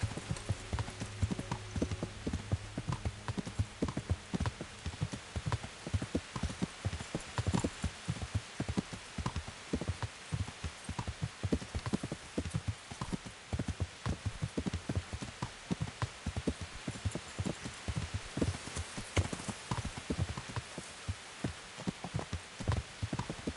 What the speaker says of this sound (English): Mountain horse.